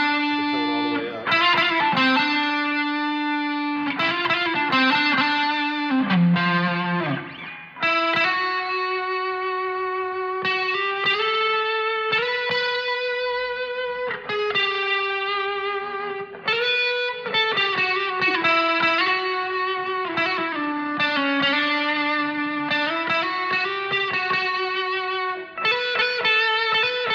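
Electric guitar run through overdrive and distortion pedals, a sustained melodic lead with held, singing notes and bends, saturated and full, played alone for the whole stretch.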